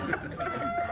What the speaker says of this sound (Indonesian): Itu ayam siapa sih itu?